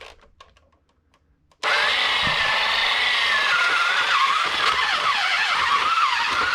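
A vintage 1984 Galoob Animal Xtendor 6x6 toy power machine switches on abruptly and runs with a loud, steady whirring motor and gear whine that continues without pause after a brief quiet start.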